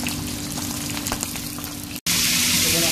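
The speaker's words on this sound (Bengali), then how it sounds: "আমাদের তেল গরম হয়ে গেছে, আমি মাছগুলো ভেজে নেব।" Sea bream fish frying in hot oil, a loud, dense, continuous sizzle close up, briefly cut off and then resuming even stronger.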